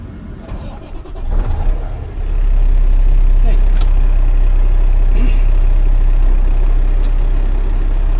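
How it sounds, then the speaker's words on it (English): A Class A tractor-trailer truck with an Eaton 10-speed transmission cranks and starts, then settles into a loud, steady diesel idle close by, with some talk over the start-up. "now I'm going to safe start my engine"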